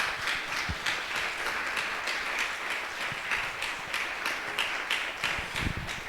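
Church congregation applauding during a Spanish-language sermon, a steady wash of many hands clapping at moderate loudness with a few sharper claps standing out, sustained evenly throughout.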